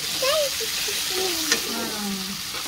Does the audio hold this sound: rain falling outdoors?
no